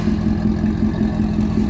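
A 5.0 Mustang V8 fitted with a new exhaust runs at a steady, deep idle, with a low burbling rumble that stays loud and close throughout and no talking.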